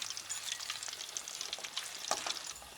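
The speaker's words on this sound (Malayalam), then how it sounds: "നമ്മുടെ വെളുത്തുള്ളിയും പൊരിഞ്ഞ് വന്നിട്ടുണ്ട്." Crushed garlic sizzles and crackles in hot oil while poha mixture is prepared, with a steady close frying hiss and scattered sharp pops throughout, no voices.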